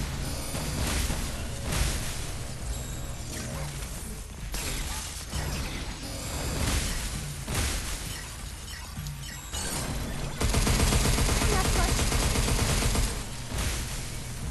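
Gunfire from the basic weapon in the video game Pragmata, a dense run of mechanical clicks, clanks and rapid shot bursts that grows loudest and most sustained near the end, with no talking.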